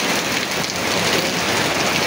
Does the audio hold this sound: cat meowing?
no